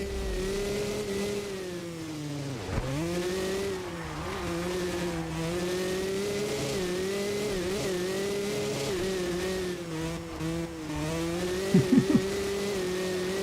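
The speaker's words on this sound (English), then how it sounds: "It sounds like it is a Nitro RC car." A high, buzzing small engine drones steadily, pitch rising and dipping with throttle like a nitro RC car, with a brief squeal near the end; a dirt bike engine in the video game MX vs. ATV Legends.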